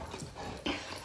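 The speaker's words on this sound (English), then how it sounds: "As you could tell, Mia's very hyper. She's still a puppy, pretty much." A young dog, close to a year old and very hyper, whimpers briefly nearby in a quiet room, a short high whine with a faint rise at the end.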